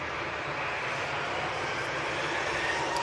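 An Airbus A319 airliner bound for London Heathrow, a steady broad engine roar that stays constant and fairly loud throughout, with no voices.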